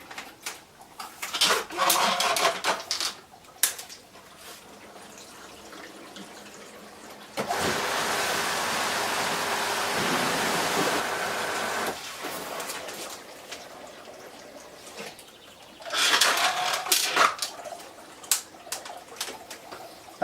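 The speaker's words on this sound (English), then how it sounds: "we can now do the backwash." Pool sand filter pump running a backwash on a green swimming pool, a steady broadband rushing of water and motor lasting about four seconds in the middle, set between stretches of outdoor ambience with cooing doves and splashing water.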